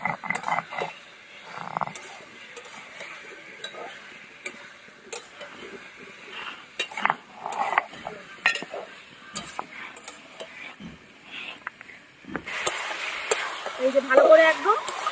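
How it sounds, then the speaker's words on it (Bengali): Chicken stir-fried with onion, ginger, garlic and tomato gives intermittent scraping, clicking stirring strokes in a pan over a low sizzle that swells louder in the final seconds. "এই যে ভালো করে একদম পেঁয়াজ, আদা, রসুনের সাথে ভেজে নিলাম"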